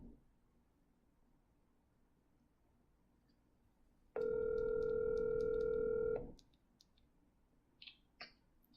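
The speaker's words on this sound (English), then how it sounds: "So without further ado, let's get Dave Millican on the phone." Telephone tone during a radio-style call to a show guest: a steady electronic tone holds for about two seconds after a quiet stretch, followed by faint clicks.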